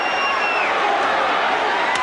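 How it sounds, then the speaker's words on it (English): A boxing arena crowd on its feet roars in a continuous, dense wall of cheering, loud and sustained with no breaks, while an announcer's voice carries over it. "The crowd is on its feet."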